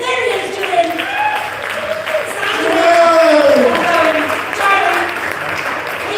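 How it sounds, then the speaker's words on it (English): An audience claps for Julian at a charity auction at the Southampton International Boat Show 2024, a steady wash of applause that swells midway, with voices and cheering mixed in. "We have to give Julian an extra round of applause"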